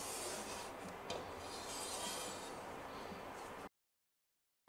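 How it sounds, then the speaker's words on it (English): A Creality K1-series 3D printer's X/Y rail being rubbed down with a cotton swab to clear off gunk, giving a steady close, dry rasping scrub for several seconds before it cuts off abruptly. "Simply get in there and rub down that rail to remove any bits and blobs"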